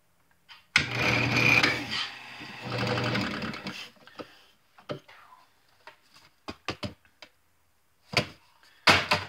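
A drill press with a sanding bit whines loudly for a few seconds in two long bursts, then short sharp clicks and brief spurts of motor noise follow.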